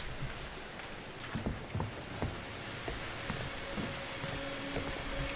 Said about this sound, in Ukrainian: Кровавий дощ вступив.